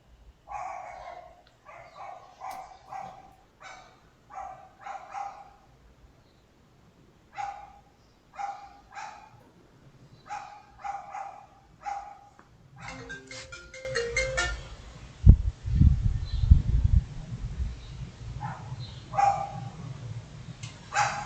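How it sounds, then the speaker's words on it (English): A dog barks repeatedly indoors in a home, in short bursts spread across the clip. Louder thumping and rumbling noise follows in the second half. "You have a dog in your home."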